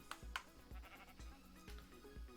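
Minecraft sheep give a few short, close bleats over a soft, rhythmic low thumping of game sounds, with no talking.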